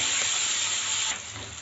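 Two medium onions, cut up, fry in a pan with a steady, close hiss that stays fairly level throughout and eases slightly toward the end.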